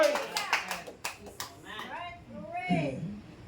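A Naga Christian church congregation claps in a series of sharp, uneven hand claps at the start, then voices talk and call out over the fading applause.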